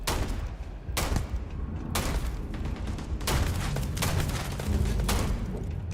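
Player's gun firing in Starfield: a continuous fusillade of loud, close shots in steady bursts, repeating every second or so over a thick low rumble of combat.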